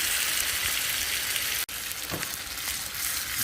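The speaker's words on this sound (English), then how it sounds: "Fry both sides" Salmon steak frying in a pan, a loud continuous close sizzle with a steady hiss and a brief break midway.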